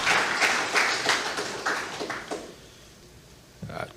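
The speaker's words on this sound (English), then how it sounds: "Let's give them a big round of applause." An audience at the Marcus Garvey Rootz Extravaganza breaks into applause, bursts of dense clapping that swell and ebb for a couple of seconds before dying down into near quiet, with a sharp noise at the very end.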